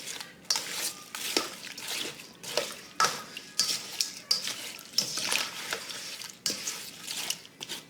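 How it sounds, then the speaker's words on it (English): Apple slices are stirred in a bowl of soaking water, producing steady sloshing and splashing with small knocks against the bowl throughout. "I'm just going to give them a stir here."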